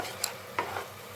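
A spice paste of ground spices, turmeric and salt is stirred and fried in a pan. Two short scraping clinks sound over a steady, soft sizzle.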